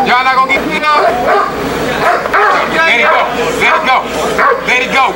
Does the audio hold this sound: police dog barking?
yes